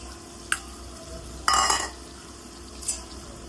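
Potatoes tipped into a pan of frying dried fish, onion and spices give a short clatter and brief sizzle, followed by a few scraping stirs and light utensil clinks, close and fairly quiet.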